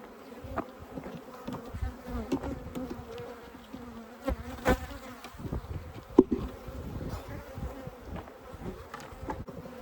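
Africanized-to-European honey bees from a tiny swarm buzz in a dense, wavering drone close by, with occasional knocks and handling sounds around the hive.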